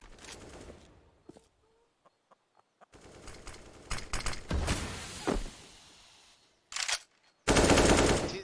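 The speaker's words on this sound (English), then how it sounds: "AWP fires first, missing his shot." Sharp gunfire bursts from Counter-Strike on the Inferno map, including an AWP sniper shot, scattered across quiet gaps, ending in a loud dense volley.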